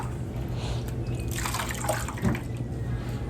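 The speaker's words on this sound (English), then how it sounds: "Dip and rinse a couple times just to get a nice wash." A paintbrush is rinsed in a container of water, sloshing and swishing a few times, with small splashes and drips over a steady background hum.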